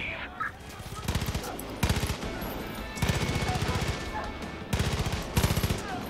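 Bursts of rapid automatic gunfire in the video game Far Cry 5, several rattling volleys separated by short pauses, loud and close over a steady game background.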